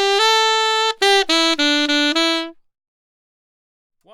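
Saxophone plays a short closing phrase, a long held note then a run of crisply tongued, detached notes, close and loud, ending in silence.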